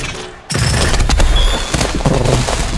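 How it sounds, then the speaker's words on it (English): Fireworks exploding in the video game ShowGunners, heard as a loud, dense burst of crackling blasts and booms that starts abruptly and continues with little pause. "Okay, the drone is going to attack the fireworks."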